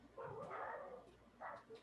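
A dog upset by thunder gives two short, moderately loud barks close by, the second following after a brief pause.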